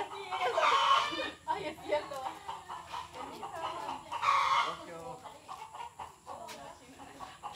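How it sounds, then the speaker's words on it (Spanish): A hen clucks nearby in a rural yard, a few bursts of loud squawking clucks rising and falling, with people talking in Spanish around it. "Está que esa gallina me cae mal, como hace ruido."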